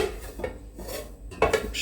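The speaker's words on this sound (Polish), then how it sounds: "Wrzucam żeberkę do garnka." Clanking of metal and pieces of pork rib thudding into a pot, a few irregular knocks and scrapes close by, with a louder clatter near the end.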